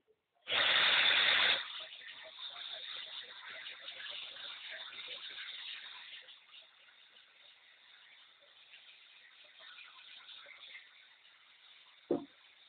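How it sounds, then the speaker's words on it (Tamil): Flood water gushing at Agasthiyar waterfall on the swollen Thamirabarani river, a loud rushing burst at first, then a steady broad roar that slowly fades, with a brief knock near the end. "அகஸ்தியர் அருவியில் கடும் வெள்ளப்பெருக்கு ஏற்பட்டுள்ளது"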